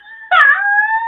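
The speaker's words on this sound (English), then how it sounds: "that's a dog. That's a dog." A greyhound wearing a sweater howls loudly and close by, a sustained tonal wail that starts abruptly and holds steady without any talking.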